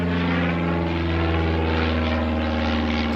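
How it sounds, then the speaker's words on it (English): A small propeller airplane drones steadily overhead near a sweet corn field, its loud continuous engine hum holding throughout with no voices. "just a little airplane"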